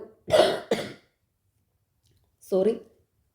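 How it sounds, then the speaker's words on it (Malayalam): Two quick coughs close together, then a short pause and one more cough, each brief and close up. "ചുമയായിരുന്നു."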